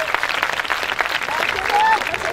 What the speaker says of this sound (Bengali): স্যারদের জন্য জোরে একটা হাততালি